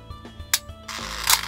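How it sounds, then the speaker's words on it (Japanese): An Italian Gami 16 compact rangefinder camera fires its shutter release, giving a few small, crisp mechanical clicks up close followed by a brief whirring rasp. "シャッターのボタンを切ります"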